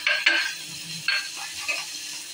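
Soft sizzling of chopped garlic frying in oil until lightly browned, with a few scraping stirs of a utensil against the pan.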